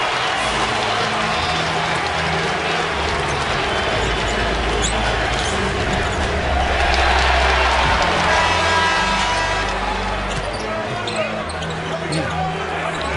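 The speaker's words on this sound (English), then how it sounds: "And the crowd applauding the effort out of Derrick Rose here tonight." A basketball arena crowd applauds and cheers during an NBA game with the Timberwolves. The noise is a loud, sustained roar under commentator talk, and it swells in the middle.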